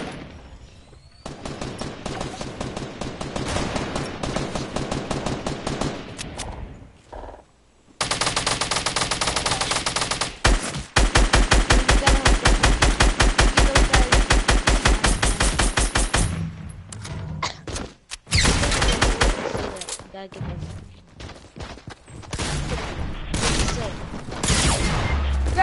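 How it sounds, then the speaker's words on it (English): Gunfire in a video game firefight, with long bursts of rapid automatic shots and scattered single cracks, loud and close, broken by short pauses and occasional thuds while players talk in between. "They're shooting at you."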